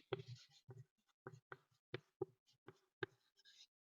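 Pen strokes on paper in a classroom lesson, a run of short scratchy bursts spaced irregularly, close and fairly clear with no talk over them.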